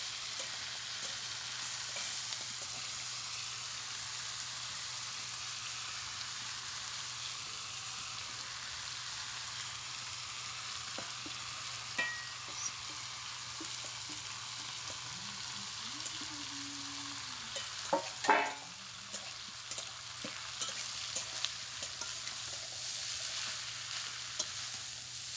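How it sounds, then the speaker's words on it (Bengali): Prawns and banana stem fry in a pan with a long, even, fairly quiet sizzle, interrupted by a few brief clinks and stirring scrapes near the middle, and no talking. "চিংড়ি মাছটা ভাজা ভাজা হয়ে গেছে, এবার আমি থোড়টা দিয়ে দেবো।"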